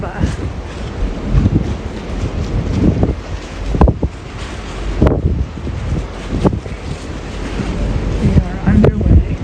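Norwegian Jewel cruise ship getting underway from port in Aruba, with steady wind buffeting the microphone and a broad rush of water and engine noise throughout, plus a few sharp gusts or thumps.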